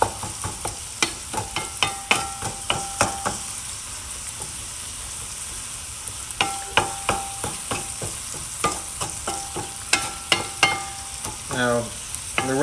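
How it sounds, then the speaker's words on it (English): Empanada filling sautéing in a pan for baked sandhill crane empanadas, a steady close sizzle broken by repeated scraping stirs in quick bursts, with a short pause midway and a bubbly flurry near the end. "Let that saute for a little while."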